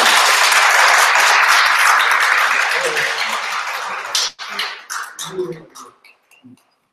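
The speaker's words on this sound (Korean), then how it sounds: "그 세 분 후보님들한테 격려의 박수 한번 부탁드립니다." Dense audience clapping for three parliamentary candidates at a Paju election policy debate in Korea fills the hall at first, then gradually thins and dies away into a few scattered claps and murmurs.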